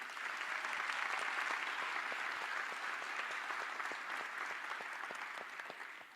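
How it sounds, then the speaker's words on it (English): An audience at a live science Q&A event claps for the panel. The applause is steady and sustained, fairly distant and soft, and it tapers off at the end. "and get a big round of applause for everybody again."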